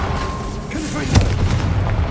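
A single deep boom from a Confringo blasting spell explosion in the video game Hogwarts Legacy, a sharp impact followed by a low rumbling tail over a busy game backdrop.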